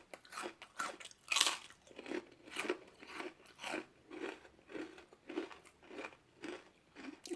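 Crunchy vegetables eaten with hummus, chewed up close, a steady series of crisp, loud bites and chews repeating roughly twice per second with no talking.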